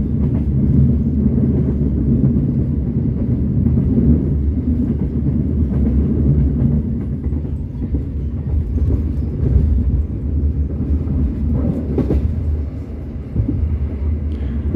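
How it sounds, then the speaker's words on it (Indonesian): Inside the passenger cabin of the KA Sritanjung train running on R54 rails, a continuous low rumble and rolling drone with light clatter, steady and fairly quiet for the whole stretch, no voices. "teman-teman akhirnya mendengarkan suasana kabin yang lebih senyap"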